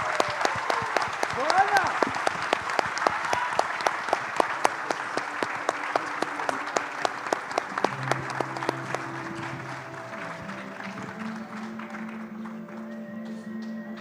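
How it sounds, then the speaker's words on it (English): A conference audience claps steadily for innovation contest winners, the dense applause loud and sustained before thinning out near the end as speech takes over. "Again, a round of applause for our contestants, for our judges."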